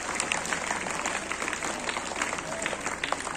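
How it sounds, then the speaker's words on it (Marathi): An audience claps steadily to welcome a guest at a school annual sports event, the dense applause sustained throughout without speech. "जोरदार टाळ्यांनी सरांचं हार्दिक हार्दिक स्वागत।"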